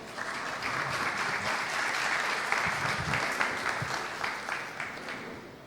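A crowd applauds steadily at an architecture event, dense clapping filling the whole stretch at fairly even loudness, with no voices standing out.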